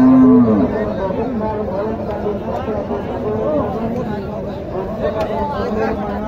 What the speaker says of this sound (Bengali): দেখেন সারি সারি সব গাবি গরু, সব গাবি গরু